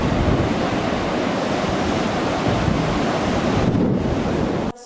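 Big ocean waves roll onto a beach near San Juan, Nicaragua, a loud, continuous roar of surf mixed with heavy wind buffeting the microphone, cutting off abruptly at the end.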